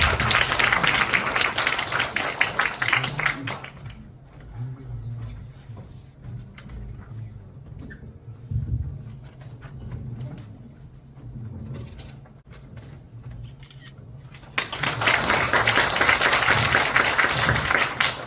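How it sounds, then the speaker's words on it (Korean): Audience applause welcoming a speaker at an indoor forum on Korea–Denmark peace education, loud clapping at the start and again at the end, with a quieter stretch of room noise and faint talk between. "박수로 맞이해주시기 바랍니다."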